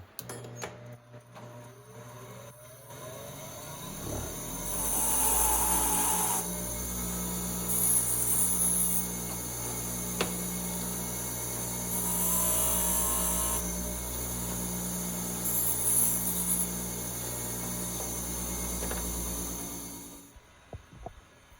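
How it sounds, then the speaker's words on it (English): A bench grinder hums steadily while freshly cut trap spring edges are smoothed on it, with louder stretches of grinding contact rising and falling over about fifteen seconds before the motor winds down; no one talks. "I'm just going to touch them up with my bench grinder so they're not sharp."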